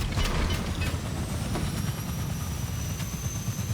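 A Fortnite helicopter's steady low rotor rumble fills the clip, with a thin high whine running across it and no talking.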